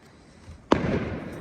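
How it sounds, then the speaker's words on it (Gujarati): A single sharp firecracker bang bursts out of quiet on New Year's evening, followed by a brief crackling tail that fades into faint background noise. "ઓ ફટાકડા ફૂટે"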